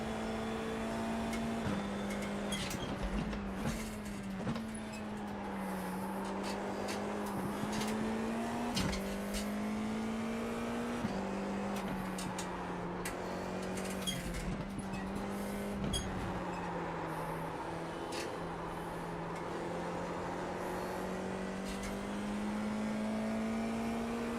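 A Formula 4 race car engine at the Sachsenring drones at steady high revs close to the listener, its pitch dipping and climbing through gear changes and corners throughout.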